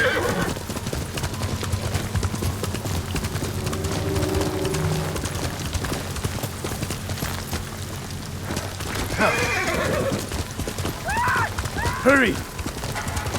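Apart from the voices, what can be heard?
horse galloping and neighing in the video game Ghost of Tsushima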